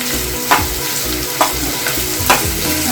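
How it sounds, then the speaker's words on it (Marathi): Finely chopped onion sautéing in a pan, a steady sizzle with three sharp scrapes of the spoon spaced about a second apart, close and fairly loud, no voices. "व्यवस्थित आपल्याला परतवून घ्यायचं आहे."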